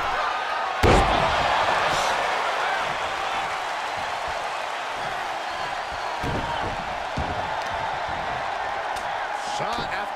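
A heavy impact of a wrestler crashing down after a slam in the WWE 2K24 wrestling game, one sharp thud near the start over a constant roaring arena crowd and game commentary.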